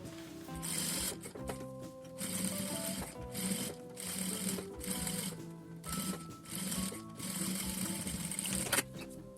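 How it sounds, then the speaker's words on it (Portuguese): A sewing machine topstitches around the fabric flap of a ruffled toiletry bag, running in steady rhythmic bursts of stitching broken by brief pauses, close and clear. "Agora, eu vou passar o pesponto aqui em toda a volta"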